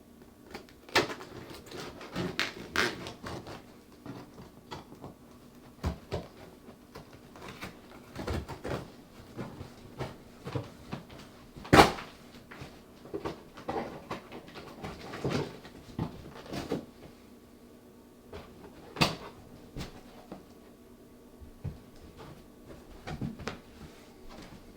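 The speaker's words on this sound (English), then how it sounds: "I'm just going to use a standard issue steak knife to open this thing up." A steak knife slicing open a cardboard box: irregular scraping, tearing and tapping sounds, close and moderately quiet, with occasional sharper knocks of cardboard; no voices.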